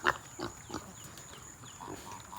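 Pigs on a farm make a few faint grunts and snorts at feeding time, brief scattered calls over low background noise.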